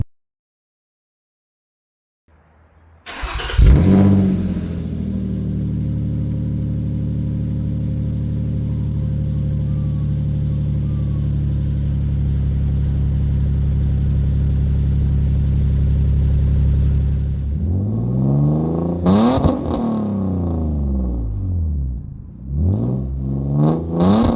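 Project 13, a sleeper car, idles with a deep, steady rumble close by for about fifteen seconds, then its engine is revved hard several times in rising and falling sweeps.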